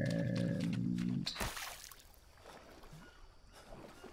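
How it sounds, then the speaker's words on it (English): Sloshing, splashing water as a character wades across a river in the jungle survival game Green Hell, a loud burst early on fading to softer, uneven wading splashes, with no talk. "Let's just get across this river."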